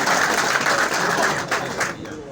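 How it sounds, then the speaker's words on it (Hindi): A crowd at a political meeting with village heads gives loud applause for Gandhi ji, a steady dense wash of clapping that swells and dips slightly throughout. "गांधी जी, जोरदार ताली हो जाके गांधी जी का"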